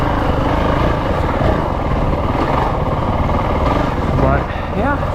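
A Honda CRF450L dual-sport motorcycle is ridden in second gear along tight singletrack, its engine loud and close with a continuous droning roar, briefly rising and falling in revs near the end.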